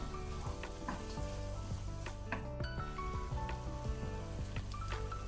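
Masala sizzling and frying in ghee for a chicken thigh and palak gravy, a dense continuous crackle with busy popping, close and steady, with music underneath and no talking.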